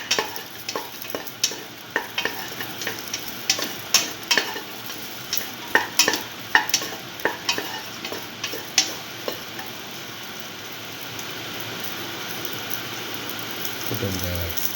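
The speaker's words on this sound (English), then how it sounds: "Keep on sauteing." Beef and okra sautéing in a pan, stirred with a steady run of sharp scraping clacks over a constant sizzling hiss that carries on alone after the stirring stops.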